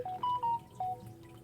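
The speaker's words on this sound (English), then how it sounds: "Sorry about the beeping of my phone" A phone rings with a short run of electronic beeps at different pitches, close and clear against a low background hum.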